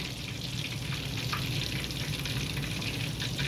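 Homemade fried chicken frying in a pan gives a steady, close sizzle and crackle of hot oil that holds even throughout, with no talking.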